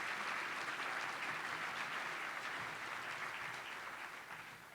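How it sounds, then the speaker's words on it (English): An audience at a chamber of commerce annual meeting and awards breakfast claps steadily, a soft, even wash of hands heard from some distance that tapers slightly toward the end. "Ladies and gentlemen, how about some applause and support?"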